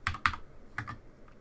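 Close keyboard typing of a Docker command on a Linux system, a few crisp clustered keystrokes in short bursts with brief gaps, heard alone.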